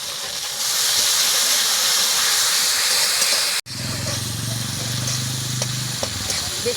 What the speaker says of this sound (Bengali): এখন এর মধ্যে দিয়ে দিচ্ছি পরিমাণ মতন হলুদের গুঁড়ো, অল্প একটু জল দিয়ে খুব ভালোভাবে কষিয়ে নেব।